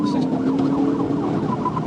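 A police car siren wails during a pursuit of a fleeing truck, rising and falling tones heard close with road and engine noise underneath.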